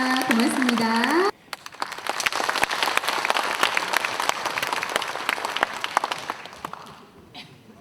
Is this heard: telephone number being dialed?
no